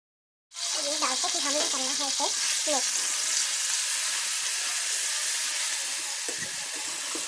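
Ginger garlic paste hitting hot oil in a wok erupts into a loud, sustained sizzle and fry that holds steady throughout, with a voice briefly heard over the start.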